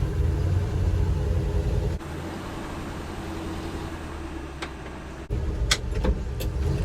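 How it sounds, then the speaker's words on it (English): A 1988 Chevy R30 truck spins its tires with a steady engine rumble and tire noise. The sound drops briefly midway and then surges back with a few sharp squeals near the end. "all we're doing, spinning tires."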